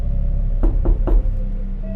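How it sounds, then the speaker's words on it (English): Three sharp knocks strike a door in quick, even succession against a quiet, low-humming room, with nothing else happening before or after. "Suddenly, the knocking started again."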